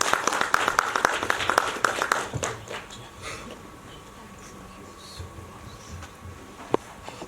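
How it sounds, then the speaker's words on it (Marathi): An audience applauds Nagraj sir with dense, rapid clapping that dies away after a couple of seconds, leaving a quiet room with faint stray sounds and a single late clap. "एकदा जोरदार टाळ्या नागराज सरांसाठी वाजवा."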